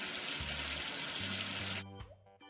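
Running water from a tap rinses soap off a number 8 in a kids' counting game, a loud steady gush that cuts off abruptly, followed by short chiming game tones.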